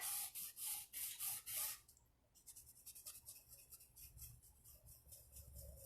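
Oil pastel being rubbed and blended on paper by hand, a close, soft brushing friction in quick strokes, louder at first, then quieter and more irregular.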